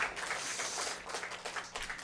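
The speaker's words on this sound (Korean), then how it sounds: "우리 모든 일꾼들에게 큰 격려의 박수 한번 드리겠습니다." A church congregation at a Sunday worship service applauding: a short, dense burst of many hands clapping together, moderately loud and fairly distant.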